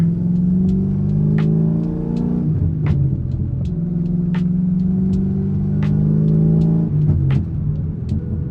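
A manual transmission car driving on a real road, steady engine rumble with periodic revving and audible gear changes, close and loud throughout with no talking.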